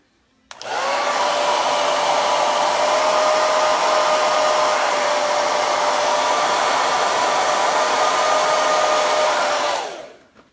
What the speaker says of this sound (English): we're going to use the hair dryer